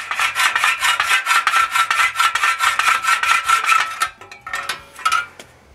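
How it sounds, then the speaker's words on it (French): Rapid, steady rasping strokes of a saw on metal, about a dozen back-and-forth passes, then a few slower, scattered strokes trailing off. "Je sors donc la scie à métal et je coupe un côté."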